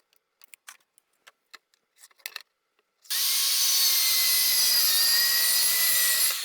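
A power saw cuts a 4-inch piece from a wooden shelf board, running loud and steady for about three seconds after a handful of soft clicks and handling knocks.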